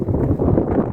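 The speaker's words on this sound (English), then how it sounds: "And it's quite windy now." Wind buffets the microphone at a Welsh slate quarry, a loud, low rumbling roar that fills the short moment with no voices.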